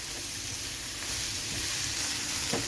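Onions sizzling in a pan while frying for a quail egg roast, a loud, steady, close crackling hiss with faint stirring scrapes and no talk.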